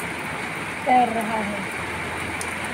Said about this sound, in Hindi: बारिश मजा लीजिए आप लोग